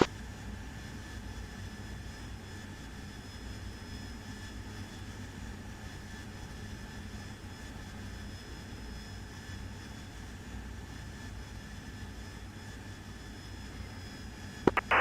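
An F-18 jet in a flight simulator game flies on with a faint, steady engine drone that holds evenly throughout, ending in a brief click.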